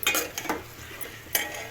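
A spoon stirs a ground spice mix of fried onion, cumin, fenugreek and coriander powder in a cooking pot, making a few quick metallic clinks and scrapes close by, then a brief pause and one more clink.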